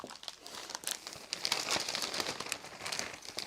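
Plastic bag being fitted into a Festool CTM 36 mobile dust extractor, crinkling and rustling continuously at close range with rapid crackles and no talk.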